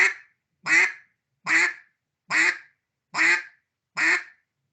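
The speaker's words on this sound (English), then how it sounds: "if I want to sound like a duck doing a greeting call, it's usually 5 or 7 notes" Duck greeting call blown on a handheld duck call for waterfowl calling, six evenly spaced bright quacks at a steady rhythm, close and loud, with silence between notes and no talking.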